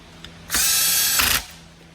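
A power drill drives screws into the housing of a Stihl MS 400 chainsaw, one close, loud burst of whirring lasting under a second with a brief change in pitch near the end.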